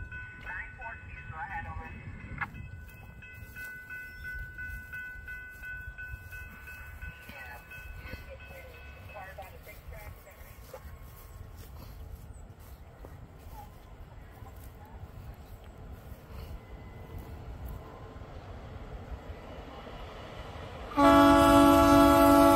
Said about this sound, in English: Yeah, we got train 11 in coming.